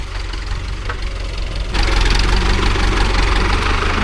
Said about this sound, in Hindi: ये ट्रैक्टर हमारी तरफ ही आ रहा है